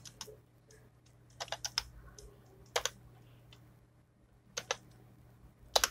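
Several bursts of computer keyboard typing, quick clusters of crisp, close key clicks separated by short quiet pauses over a faint steady hum.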